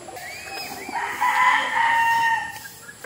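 A rooster crows loudly and close by, with chickens clucking around it in a busy coop.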